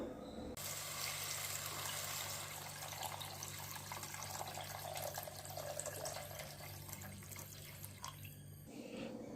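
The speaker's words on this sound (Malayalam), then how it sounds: "നേരത്തെ പുളി ഇട്ട് വെച്ചിരുന്ന ആ പുളിവെള്ളം പിഴിഞ്ഞെടുത്ത് ഇതിലേക്ക് ഒഴിച്ചു കൊടുക്കാം" Squeezed tamarind water poured from a home kitchen into simmering rasam, a steady watery splash that runs for about eight seconds and then stops, with no talking.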